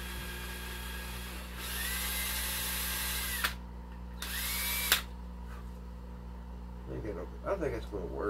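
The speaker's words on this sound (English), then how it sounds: "So we need to drill some holes. So let's see if we get this drill bit will do it." A power drill with a bit boring holes in a model build, running in two sustained whines with brief pauses between, followed by clattering handling sounds near the end.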